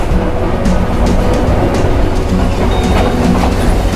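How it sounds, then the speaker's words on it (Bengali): A train runs on rails near Galle Face beach, a loud, steady rumble with rhythmic clickety-clack of wheels over joints, close and continuous with no voices. "ট্রেন ছেড়ে নামলাম"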